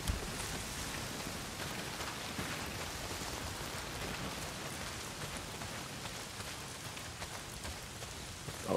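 Steady, hissing downpour of rain in the video game Days Gone, a dense continuous wash with no speech, even in level from start to finish.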